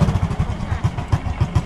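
A motorcycle engine putters nearby with a rapid, uneven chugging rhythm, loud and low-pitched, with no one talking over it.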